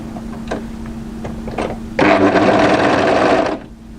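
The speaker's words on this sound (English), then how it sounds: "Overlock a few stitches to secure, find the first notch and match it, and then overlock up to it." An overlocker stitches a seam on a dress: a few light clicks and taps first, then a loud, steady, close mechanical whir for about a second and a half before it stops abruptly.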